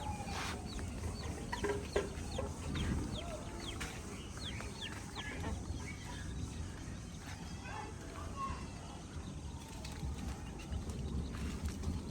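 Chickens cluck in short scattered calls over a steady outdoor rural backdrop, with a few voices talking faintly as rain approaches.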